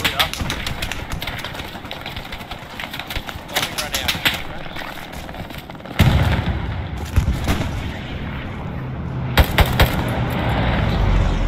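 Machine gun fire in the World War II shooter game Hell Let Loose, rapid bursts of gunshots near and far over battlefield rumble, with players talking over the fighting.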